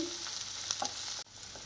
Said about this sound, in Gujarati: તો વેજીટેબલ્સને ક્રંચી રાખવા હોય તો તમારે ફાસ્ટ ગેસ ઉપર જ આવી રીતે આમ સાતડવાનું છે